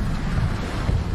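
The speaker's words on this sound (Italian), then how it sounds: "Sento rumori di vento e buio" Gusty wind rushes and rumbles through a dark tunnel in the Poppy Playtime video game, a loud low roar filling the short stretch on its own.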